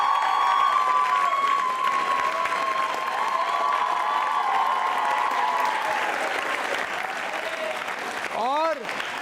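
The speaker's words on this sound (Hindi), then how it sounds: "अपने लिए तालियां जोरों से बजाइए आप, जोरदार तरीके से जोरदार तालियां बजाइए" A school audience at a quiz show applauds loudly and steadily, a dense sustained wash of clapping with some crowd noise and a voice over it.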